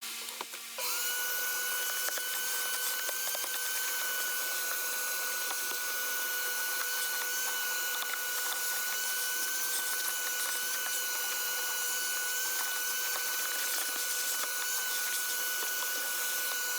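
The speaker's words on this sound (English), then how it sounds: "we're going to go ahead and get vacuuming" A vacuum cleaner runs continuously over a car's interior carpet, a steady, high-pitched whine with airy rushing and small scraping bumps throughout, no talking.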